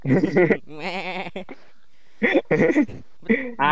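A goat gives a wavering, quavering bleat between stretches of close conversation.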